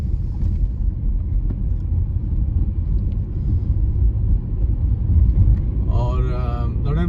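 A car drives along London roads on a weekend, with a steady low rumble of the engine and road noise. Someone talks over it near the end.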